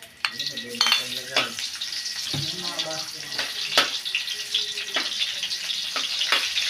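Onions sizzling in a hot pan after crushed garlic, in a Filipino home kitchen: a steady close hiss and crackle with scraping stirs, and faint voices in the background.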